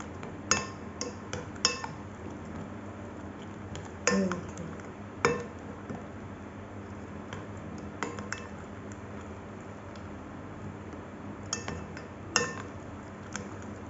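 Chicken tikka marinade with paprika powder and red food colour being mixed in a bowl: intermittent light clinks and taps of a utensil against the dish, with soft squishing between, fairly quiet and close, no talk.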